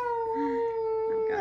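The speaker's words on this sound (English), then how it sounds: "We just love playing with the puppies all day, huh?" Puppies from a three-week-old litter let out a sustained, steady howl with whimpering whines, close and fairly loud throughout, with no talk over it.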